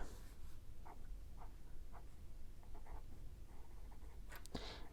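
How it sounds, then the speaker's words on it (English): Pen or pencil scratching across paper as a goal is written down, soft short strokes in bursts over a steady low background hum, fairly quiet and close. "Write it down and get to work."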